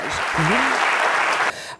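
A studio audience on a French-language midday TV show claps for guests, two animation technique specialists, with loud, dense applause that starts under a short spoken voice and then cuts off abruptly.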